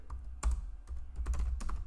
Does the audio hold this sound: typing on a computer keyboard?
yes